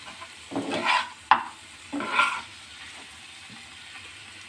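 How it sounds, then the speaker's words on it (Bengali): A spatula stirs chicken sandwich filling in a pan, making a few soft scraping and sizzling strokes in short bursts with pauses between them, close and moderately quiet. "এরকমভাবে আস্তে আস্তে খুন্তি দিয়ে ভালো করে মিশিয়ে নেবেন"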